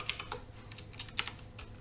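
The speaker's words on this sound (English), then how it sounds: "we're going to type in config space T, hit enter, type in banner space motd" Keystrokes on a computer keyboard while entering switch configuration commands in Cisco Packet Tracer, a short burst of close, crisp clicks with two sharper taps standing out, no talking.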